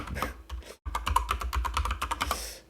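Rapid clicking keystrokes on a computer keyboard as a command is typed into a terminal, close and steady with one brief pause, no voices.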